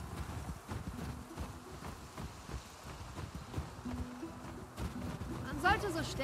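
Horse hooves in The Last of Us Part II patter softly and steadily at a moderate distance beneath a continuous low game ambience, with a brief brighter rattle near the end.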